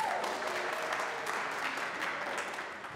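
Audience applause at a jazz and strings concert, a steady wash of clapping filling the room at moderate level throughout, with no clear breaks.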